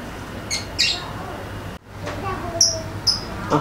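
Several sharp, high bird chirps ring out at intervals, some close and piercing, over a steady insect-like buzz and low ambient noise.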